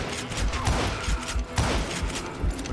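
Double-barrel shotgun blasts in the Western shooter Call of Juarez: Gunslinger: two or three heavy, booming shots spaced about a second apart, close and loud over a busy battle din, with no talking.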